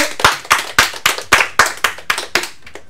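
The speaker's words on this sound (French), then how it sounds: "on peut t'applaudir, merci Hugo." A small audience on a French talk show claps for a guest, a short burst of sharp, separate hand claps in a quick loose rhythm, close and loud, tapering off after about three seconds.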